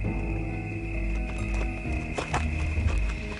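A horse's hooves clip-clop at a walking pace, the steady knocking steps fairly close and clear with no voices over them.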